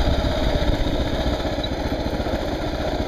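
A Kawasaki KLR motorcycle on a trail, its single engine chugging in a steady rapid pulse, loud and close throughout, no voices.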